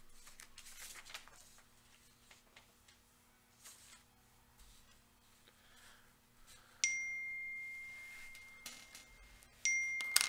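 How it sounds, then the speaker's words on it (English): A phone text message notification chimes twice, a bright tonal ding that rings out and decays, the second following a few seconds after the first, in an otherwise quiet room. "Yeah, that's my phone going off."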